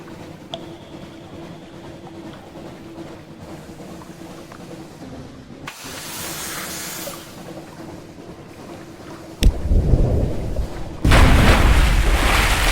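A torpedo strikes an enemy ship in the Sunless Sea video game: a sharp burst lands abruptly over a quiet ambient drone, then a second, louder heavy boom follows and sustains with a deep rumble.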